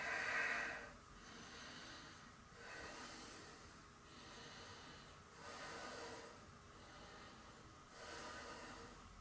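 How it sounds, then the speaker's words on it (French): Slow breathing during a yoga exercise, several long soft inhales and exhales in a steady rhythm, faint and close against a quiet hiss. "Et je respire."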